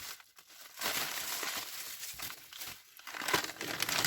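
A plastic bag holding a pair of Snap-on tools crinkles and rustles as it is handled up close. The crackling comes in short irregular bursts with no speech.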